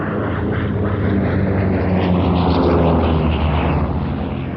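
A Grumman F8F Bearcat propeller fighter flying at the IWM Duxford Battle of Britain airshow, a loud continuous engine roar that swells gently as the aircraft passes, with no voices.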